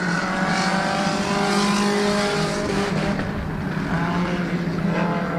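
A compact division race car, number 119, runs on the oval at Midvale Speedway during qualifying, its engine droning steadily and loudly throughout with a sustained, slightly wavering pitch.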